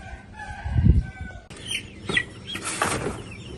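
Month-old chicks cluck and chatter close by, with a brief rustle of movement; several overlapping bird calls continue throughout.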